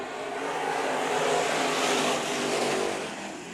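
Pack of topless modified race cars at Bakersfield Speedway roaring at the green flag, a loud sustained engine drone that swells as the field accelerates past and then eases slightly.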